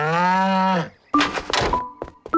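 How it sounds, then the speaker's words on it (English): A cartoon cow gives a long, loud, close moo, followed by a few bumps and clatters with short tonal beeps in an animated children's farm scene. "Poor cows."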